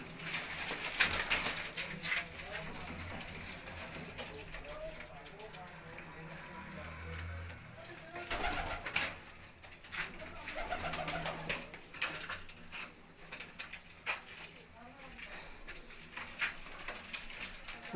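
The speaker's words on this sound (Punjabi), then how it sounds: "ਇਹ ਜੀ 3 ਨੰਬਰ ਟੈਡੀ ਕਬੂਤਰ ਹੈ" Racing pigeons coo on a rooftop in Gujranwala during a champion pigeon contest. Their soft, repeated coos come up close with a few wing flutters, while someone talks over them.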